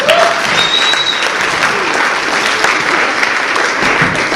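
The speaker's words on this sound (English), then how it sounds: "Give her a round of applause." Audience applause at an improv comedy show, loud and close, a dense continuous burst of clapping with a few voices and brief whoops mixed in.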